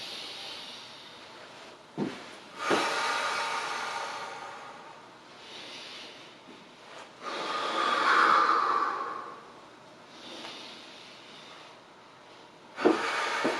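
Deep breathing, a big exhale followed by a big inhale, during a floor warm-up for people in pain; soft airy breaths rise and fall in several swells, close and fairly quiet, with no talking.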